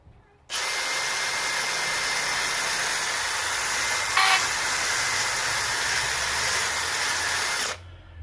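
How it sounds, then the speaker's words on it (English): Small wire wheel on a power tool cleaning the rear brake caliper bracket ears of a 2006 Ford Explorer, a loud, steady high whirring and scraping hiss lasting about seven seconds, starting and stopping abruptly, with no talking. "I'm going to use a little wire wheel, clean up our ears here."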